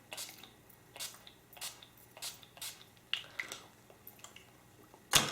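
Several short, breathy spritzes of a NYX makeup setting spray bottle come in an uneven series, up close and fairly quiet, ending with a louder burst.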